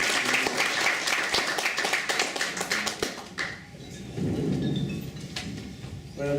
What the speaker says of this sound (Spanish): les pido un aplauso para nuestro comentario